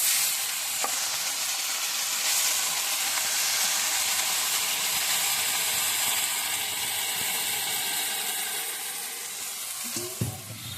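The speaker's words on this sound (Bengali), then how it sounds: "গ্যাস জ্বালিয়ে কড়াইটা আমি বসিয়ে দিয়েছি এবার আমি শাকগুলোকে সিদ্ধ করতে দিয়ে দিচ্ছি" Red amaranth greens cook in a wok on a gas stove, a broad steady sizzle and steamy hiss that fades slightly toward the end, close, with a brief clink near the finish.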